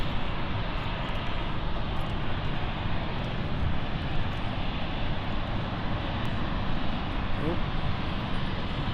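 Embraer airliner about 3,600 feet up near London City airport, a continuous broad engine roar that holds steady and fairly loud throughout.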